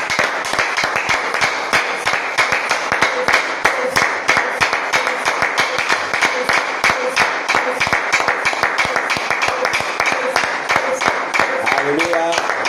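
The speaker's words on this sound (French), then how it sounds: "Applaudissons pour le Seigneur Jésus." A church congregation claps in a fast, steady rhythm, each beat sharp and close, while voices carry on underneath throughout.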